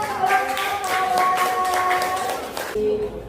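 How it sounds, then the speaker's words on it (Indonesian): Classroom applause at a student-teacher practice lesson in Indonesia, a steady wash of many hands clapping together for about three seconds, with some tonal background sound underneath before it ends abruptly. "Berikan tepuk tangan"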